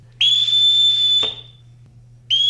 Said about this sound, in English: the fact that he has to call his children with a whistle